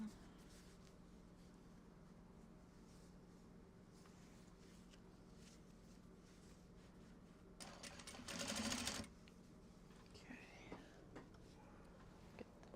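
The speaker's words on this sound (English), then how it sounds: "Bobbin winding, get the bobbin winding." A home sewing machine winds a bobbin during bag-making prep, a steady mechanical whir rising briefly louder for a couple of seconds near the end over a low constant hum, with soft background noise and no clear talk.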